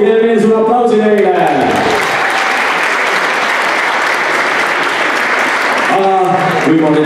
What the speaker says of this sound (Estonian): teeme veel sulle aplausi neile